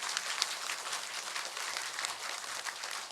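A church congregation claps in encouragement during a Sunday worship service, a soft, steady patter of many hands from a distance, with no talking.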